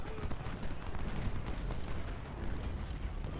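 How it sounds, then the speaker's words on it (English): Artillery fire in Ultimate General: Civil War, a continuous rumble of distant cannon booms and musketry rolling under the battle ambience, fairly faint. "Oh, there's artillery back there too."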